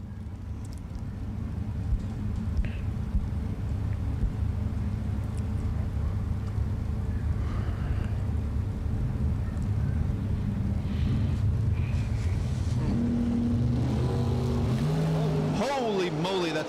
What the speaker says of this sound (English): J.P. Britt about to do a wheel stand for us